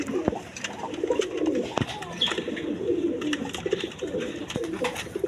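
A pair of Chuya Chandan pigeons coo nearby amid a busy pigeon market, the rolling murmurs broken by sharp clicks and knocks from cages and handling.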